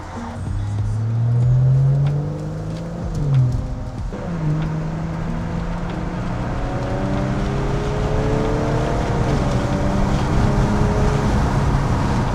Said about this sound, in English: The exhaust is still treating me well, no issues. As y'all can hear.